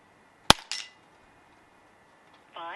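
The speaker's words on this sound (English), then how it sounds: "I'm going to give us a few more shots here" A Huben GK1 semi-automatic air pistol fires a single sharp crack up close, followed by a quick metallic clack of the action, then near silence and a brief tonal beep.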